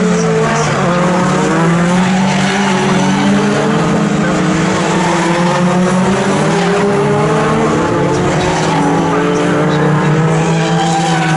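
Racing pickup trucks at the Snetterton circuit roar continuously with engines straining and tyres squealing through a skid, a loud, sustained mix of motor and rubber noise.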